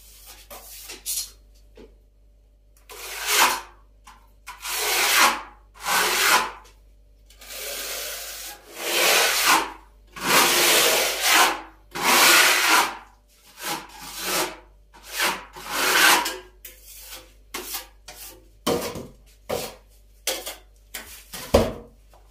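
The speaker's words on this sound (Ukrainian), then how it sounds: "Зараз наносимо структурну фарбу, носити неї буду простим шпателем в нержавіючій сталі" A stainless steel spatula spreads textured paint across a kitchen wall in repeated scraping strokes, each a rough rasping swipe separated by short pauses, close and fairly quiet.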